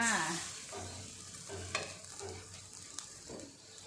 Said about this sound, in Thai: ใส่กะทิลงไป แล้วก็ เอาน้ำพริกแกงนะคะ เอามาผัดให้สุกหอมเลยค่ะ